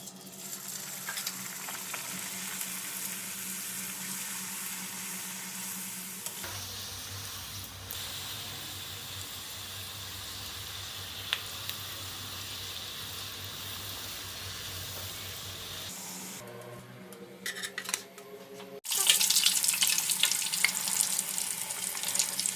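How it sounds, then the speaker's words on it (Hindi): Puri dough sizzling in hot oil for halwa puri, a continuous crackling fry that shifts in intensity, with a louder splashy burst near the end. "तेल हमारा गरम हो गया है, अब इसमें हम पूरी डाल देंगे"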